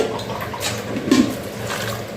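Water pours steadily into a cooking pot of lentils for bottle gourd curry, a soft continuous splash with a slightly louder surge midway, no talking.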